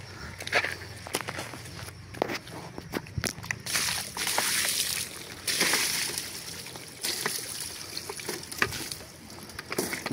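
River water sloshes and splashes as someone wades through it. Footstep-like splashes come in irregular bursts, close and fairly loud, and there is no speech.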